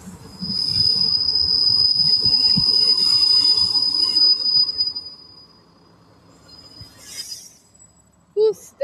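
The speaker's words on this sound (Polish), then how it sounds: "Wjeżdża pociąg ze stacji Bochumin do stacji Chałupki. Mini motoraczek." A small railcar pulls in on the Bohumín to Chałupki line, its wheels letting out a long, loud, high squeal over rumbling rail noise that then fades. A brief clank and a short squeak follow, and people talk nearby.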